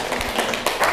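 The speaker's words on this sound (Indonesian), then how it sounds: "Oke, kasih aplaus" A classroom group applauding at the end of a presentation, a short burst of brisk, fairly loud hand claps from a handful of students, quick and uneven, lasting about a second.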